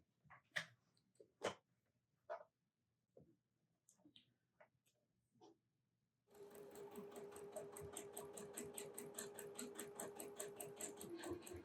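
Scattered soft handling noises give way to a sewing machine stitching fabric, which starts abruptly and runs in a fast, even rhythm, close and fairly quiet.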